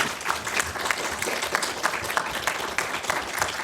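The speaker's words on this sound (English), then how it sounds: "can we get a round of applause, please?" Steady applause from an audience at a panel talk on women in computing, a continuous wash of many hands clapping at moderate volume.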